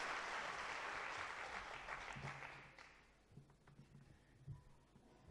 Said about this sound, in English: Round of applause for Mr. BJ Panda,